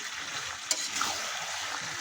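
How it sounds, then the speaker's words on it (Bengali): Goat meat mixed with its own fat is stirred in a pan, giving a steady soft sizzle with a couple of brief scraping clinks; close, alone, without talk. "এখন চর্বিটা দিয়ে নেড়ে নেব।"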